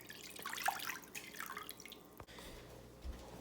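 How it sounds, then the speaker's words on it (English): Water trickles faintly into a baking pan around ramekins of molten lava cake batter, a soft, quiet splashing and dripping with a few small clinks. "Now you add water into this baking pan so it reaches up to halfway up the"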